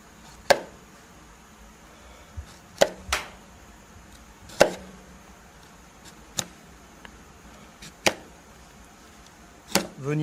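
A knife scores the skin over a rack of lamb, giving about eight sharp, separate cutting clicks at irregular intervals against quiet kitchen background, with no speech.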